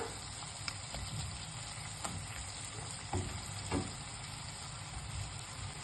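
Chicken curry with tomato is stirred in a pan, a steady sizzle with soft scraping strokes of the spoon running underneath, and nobody speaks.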